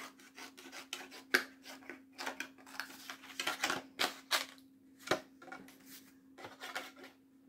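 Scissors snip around the edge of a piece of cardboard for a decorative cardboard-craft letter, giving a close series of short dry crunching cuts in an uneven rhythm.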